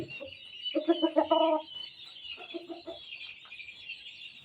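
A Red Game Farm F1 gamecock rooster clucks in quick bursts close by, with a louder run of rhythmic clucks followed by softer, scattered ones.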